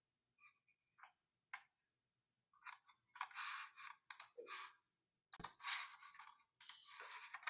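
Computer mouse clicking while working in ANSYS HFSS software on a microstrip patch antenna model: several quick, light clicks and soft clatter, close and fairly faint, with a thin steady tone running through and no speech.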